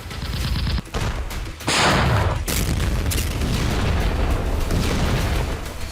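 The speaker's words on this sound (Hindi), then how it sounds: "फिलहाल यूक्रेनी फौज की आर्टिलरी आग उगल रही है।" Ukrainian army artillery fire in a war zone, a loud continuous barrage of heavy booms and rumbling blasts overlapping one another with no pauses.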